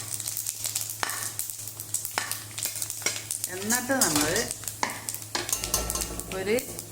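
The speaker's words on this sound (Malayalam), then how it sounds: "അതിന് കുറച്ച് വെളിച്ചെണ്ണ ഒഴിക്കുക, ഇത്തിരി പെരുംജീരകം അതിടുക." Fennel seeds sizzle and crackle in hot coconut oil while a spoon clinks against the pan; a person speaks over the frying.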